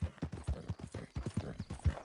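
Steady hollow clip-clop of horse hooves in the video game Red Dead Redemption 2 on PS5, at a brisk walking rhythm, close and even, with no voices.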